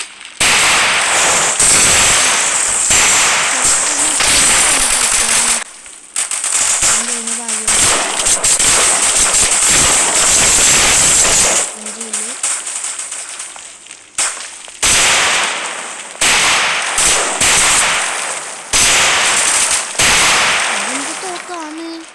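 Firecrackers burst one after another in loud, close, crackling volleys that run almost without a break, with short pauses between barrages. Voices can be heard among the bangs.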